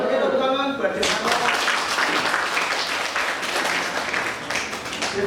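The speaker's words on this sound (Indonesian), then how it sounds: "Oke, tepuk tangan buat Jivano." Students clapping for a classmate in a school science lesson, a short burst of group applause that follows a brief spoken line and then stays steady to the end.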